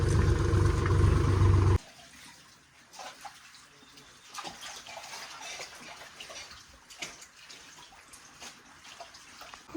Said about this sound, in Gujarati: આજે બધા મજૂરો અહીંયા મૂળા ધોઈ રહ્યા છે